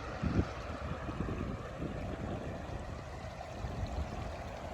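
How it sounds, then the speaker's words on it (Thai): Water flowing steadily in a stream, a soft continuous rushing hiss with no voices, fairly faint and even throughout. "อันนี้คือน้ำไหลเนาะ"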